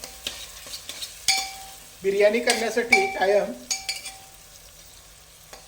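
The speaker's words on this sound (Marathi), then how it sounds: "कांदा चांगला ब्राऊन रंगाचा होईपर्यंत आपल्याला याच्यामध्ये परतून घ्यायचा आहे" Sliced onions sizzle and are stirred in a heavy-bottomed pot while browning for Hyderabadi chicken dum biryani, with close, busy scraping and a brief voice speaking over the frying.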